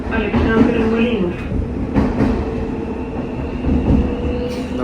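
A new Sofia metro train rumbles steadily over track switches and joints, with dense continuous rolling noise, faint clicks and a brief tonal whine near the start, heard from inside the car.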